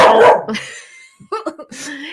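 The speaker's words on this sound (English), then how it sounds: "So I let him bark when he wants to on these things." A dog at home barks a few times, with one loud bark at the start followed by quieter yips and whimpers mixed with a person talking nearby.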